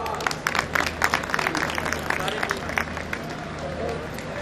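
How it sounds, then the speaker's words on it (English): An audience at an engineering college function applauds a medal winner, a crowd of hands clapping in brisk, uneven bursts that settle into a softer patter toward the end. "You can give a good applause to Nidhi Agarwal."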